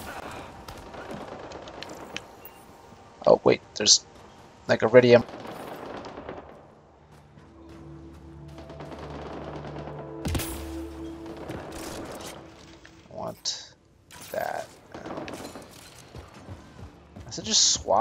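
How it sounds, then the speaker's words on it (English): Gunfire in the video game Mass Effect: Andromeda sounds as scattered, sharp bursts and cracks at a moderate distance, spread across the stretch between quieter game ambience, with a voice talking now and then. "Is that gunfire?"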